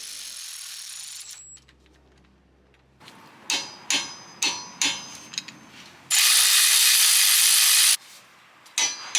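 A ratchet is worked on the three bolts of a car's hub bearing during a hub bearing and drilled brake disc replacement, giving several short clicking bursts, a sustained loud rasp, then more quiet mechanical handling close by.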